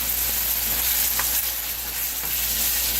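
Tomato sauce sizzles steadily in a shakshuka pan with tomatoes as it is stirred, a continuous close frying hiss with faint scraping and no talking.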